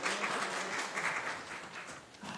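People at a city council meeting clap in a sustained, moderately loud burst of many hands, fading slightly before a voice returns at the very end.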